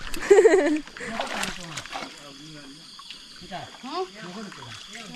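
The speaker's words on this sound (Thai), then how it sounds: "เรากำลังล้างเฮือ เป็นเฮือพายนะ" Water splashing while a wooden rowing boat is washed out on a river: a short burst of splashing at the start, then light trickles under people talking.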